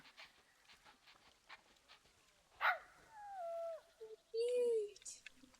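Two baby puppies in the Planet Zoo game give soft panting breaths, then rising whimpers and high whines, faint and intermittent, with someone talking quietly over parts.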